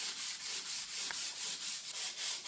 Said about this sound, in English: So I switched to hand sanding using a block of wood and a foam pad.